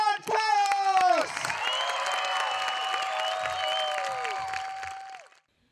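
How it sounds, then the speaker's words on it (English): Audience at an outdoor circus show bursts into sustained applause with cheers and whoops, loud and close, holding steady for about five seconds before cutting off; a brief shout rises at the very start. "Put your hands together and make some noise for Campground Chaos!"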